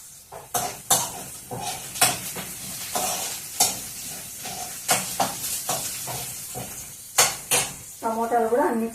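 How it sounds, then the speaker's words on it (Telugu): Onions frying in a pan while a spoon scrapes and stirs them, with a sequence of sharp metallic clinks over a low sizzle and a brief voice near the end. "కొంచెం ఉల్లిగడ్డలు కొంచెం కలర్ వచ్చేంత వరకు వేయించుకున్నాము."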